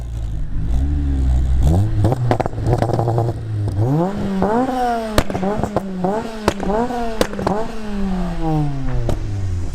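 A Honda K20 four-cylinder engine revs hard and close, climbing in quick repeated sweeps that snap back down between blips, loud and continuous throughout.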